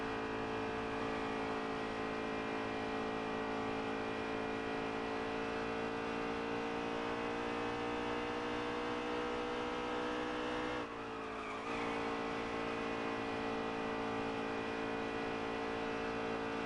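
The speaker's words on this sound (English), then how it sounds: "We're going to be listening to the engine here for this lap." A NASCAR Cup stock car engine at Las Vegas drones steadily at high revs through a lap, loud and continuous, with a brief dip and shift in pitch partway through.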